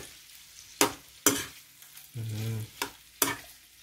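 A spoon stirs softened tomatoes cooking in a pan for mung bean stew, with several sharp scraping knocks against the pan spaced apart and a brief low hum in between, close and clear.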